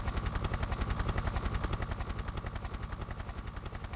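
Helicopter in the video game Tomb Raider 3, a steady, rapid rotor chop pulsing loudly and continuously throughout with a dense mechanical roar, no talking.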